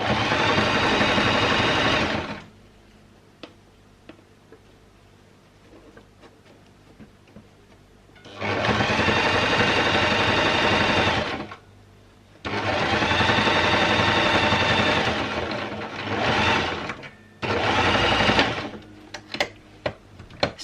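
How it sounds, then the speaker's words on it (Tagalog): Sewing machine stitching an edging along the border of a handmade punch needle throw pillow case, running in three loud bursts of steady whirring with quiet pauses and small clicks between them. "So, tatahiin ko yung gilid para hindi siya magtastas kagaya neto."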